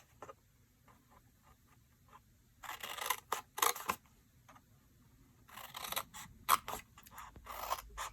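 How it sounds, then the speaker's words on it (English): Scissors snipping wedges out of a paper chocolate box for a Stampin' Up! craft: soft, crisp cuts in two short clusters in a quiet room, close and faint. "And then snip that little wedge out of both sides."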